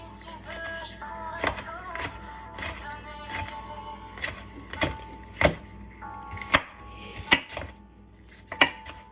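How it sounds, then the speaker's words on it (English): A knife chops vegetables into thin julienne strips on a cutting board, with a series of sharp, close taps that start irregular and grow into distinct, louder strikes spaced about half a second apart. "cutting them into strips"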